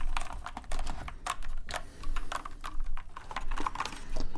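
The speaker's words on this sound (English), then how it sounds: "this is just a satisfying clicky white keyboard with some nice cool sounds and functions to it" A retro-styled, heavy white computer keyboard typed on steadily, each key giving a crisp, clicky snap in a quick, uneven rhythm close to the listener, with no voices.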